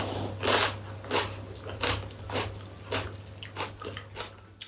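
Crunchy pepper eaten with salad gives loud, close bites and chewing crunches in an irregular rhythm over a low steady hum.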